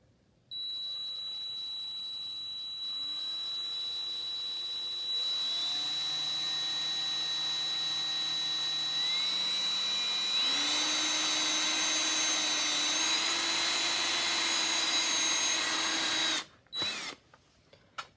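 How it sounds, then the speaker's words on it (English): A power drill whines steadily while cutting around a panel outline on a 1/32 scale B-24 model airplane, its pitch stepping up and down over long sustained runs before stopping abruptly near the end. "I'm using a drill."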